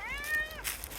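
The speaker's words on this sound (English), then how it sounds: "Hey, kitty cat." A cat in a forest on a farm gives one clear rising-and-falling meow close by, followed by a brief breathy noise.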